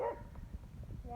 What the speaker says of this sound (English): Here are the dogs over here, if you can see them behind that fence.